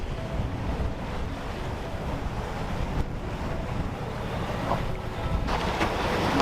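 Wind roars and waves wash against a sailboat at sea, with a low, steady motor rumble running beneath the buffeting noise.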